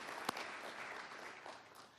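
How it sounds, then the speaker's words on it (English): Faint, distant applause from an audience at an annual fundraiser, a soft, even patter of many hands clapping, with one sharper clap standing out early on. "Give them all a round of applause."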